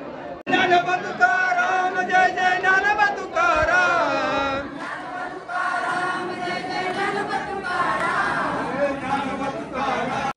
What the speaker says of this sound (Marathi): मंदिरात काही वारकरी ज्ञानेश्वर माऊलीचा गजर करत होते